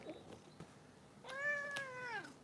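A single drawn-out cat meow, quiet but clear, rising and then falling over about a second against a faint background hiss.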